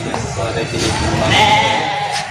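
Goats at a livestock market or farm in the Philippines bleat loudly and close by in one sustained call amid general crowd noise and people talking.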